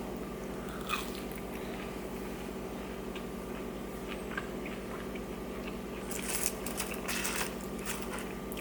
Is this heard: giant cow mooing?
no